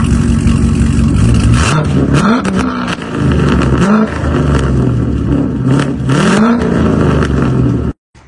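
A Corvette C7 with a loud, straight-pipe aftermarket exhaust revs up and down repeatedly, a close, harsh rumble that climbs and falls several times before cutting off abruptly near the end.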